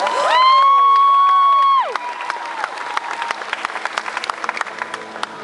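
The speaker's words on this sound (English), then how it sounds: "Let's get a big round of applause for all of our competitors" A crowd applauds and cheers competitors after a jumping event, a loud sustained tone fading at first, then scattered clapping and whoops carrying on.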